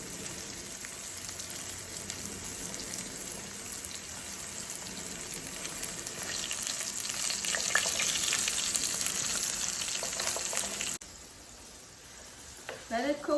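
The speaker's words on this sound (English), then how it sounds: "carefully spoon it in to the oil" Honey garlic chicken frying in hot oil, a dense continuous crackling sizzle that swells louder midway, then drops abruptly before faint stirring sounds return near the end.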